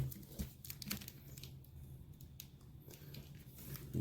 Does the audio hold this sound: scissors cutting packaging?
yes